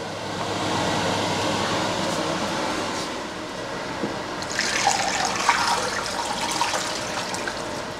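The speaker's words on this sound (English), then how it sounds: "And in goes the rest of the beef bouillon." Beef bouillon stock pours into a crock pot as a continuous liquid splash and gurgle, fuller toward the end, with no talking.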